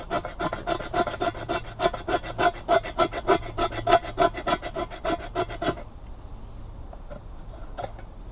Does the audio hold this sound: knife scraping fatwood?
yes